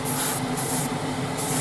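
Airbrush spraying thin paint in repeated passes onto fairings of a 1:12 Tamiya Repsol Honda RC211V '03 model motorcycle, a steady close hiss that swells and eases with each pass.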